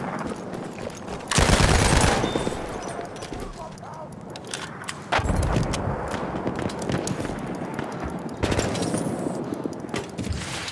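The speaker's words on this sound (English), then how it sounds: "Machine gun! One of theirs!" Machine gun fire in Battlefield 1 comes in loud, dense bursts near the start, middle and end, with battle noise and shouted voices running underneath.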